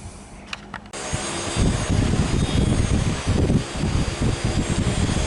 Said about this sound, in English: We'll draw it in light with a little micro motor and see how we end up.